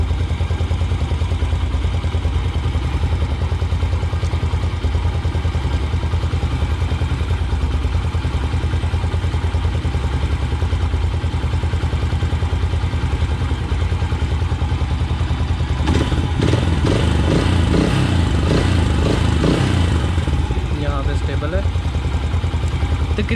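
A motorcycle engine idles steadily and close during carburetor idle mixture screw adjustment, a constant mechanical throb, while someone talks over it; the engine note briefly rises and wavers near the end.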